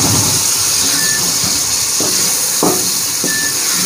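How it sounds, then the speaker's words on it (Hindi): Half a glass of water poured into a hot pan of cooked chilies sets off a loud, steady hiss and sizzle that fills the whole clip, with a few brief sputtering bursts, alone with no talking. "इसमें मैं तकरीबन आधा गिलास पानी का डाल दूँगा।"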